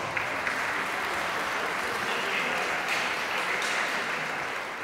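An audience at an Olympic boxing gala applauds in a dense, steady wash of clapping that holds at an even level throughout, with faint crowd murmur underneath.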